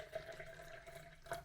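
Warm, recently boiled water is poured out for a diet mousse and jelly dessert, a faint, steady trickling splash, soft and close, with no talking.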